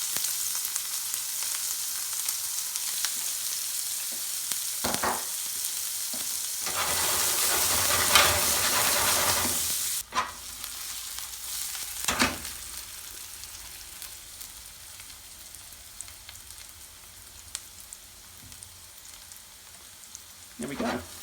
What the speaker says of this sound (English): Now we can start frying our onion.